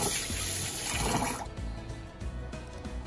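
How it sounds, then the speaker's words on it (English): Five cups of raw rice swished and rinsed in water for jambalaya, a steady close splashing and sloshing that thins into softer trickling in the second half, with no talking. "5 cups of rice. Let's wash the rice."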